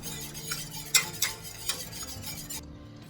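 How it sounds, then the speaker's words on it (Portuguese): A whisk stirring a reducing sauce in a pot: close, rhythmic scraping and clinking, with several sharp metallic taps around the middle and a soft sizzle beneath. It fades toward the end, with no talking. "E vou mexer bem com auxílio do fouet."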